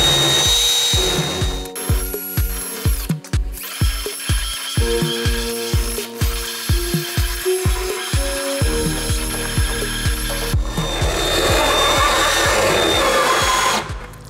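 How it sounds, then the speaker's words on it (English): Rotary file in a power tool deburring holes in a Ford truck frame for a factory fifth wheel/gooseneck hitch prep package: loud, close, continuous grinding with a steady rapid ratcheting pulse and high whine throughout. "I'm using a rotary file."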